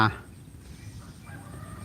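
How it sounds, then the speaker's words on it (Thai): Chickens on a farm beside flooded rice fields give one loud, brief squawk at the very start, followed by quieter outdoor background with someone talking. "เรามีไก่นะครับ"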